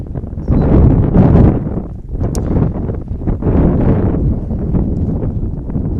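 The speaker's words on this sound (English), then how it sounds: "So quite the windy day" Strong gusting wind buffeting the microphone at an outdoor girls' high school soccer game, loud blustery surges that rise, dip briefly and swell again.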